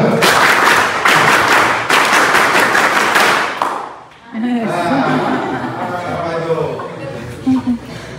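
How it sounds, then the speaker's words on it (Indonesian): A group performs the rhythmic Pramuka scout clap at a scout camp opening, a loud burst of synchronized clapping patterns for about four seconds, then chatter and laughter. "Tepuk pramuka."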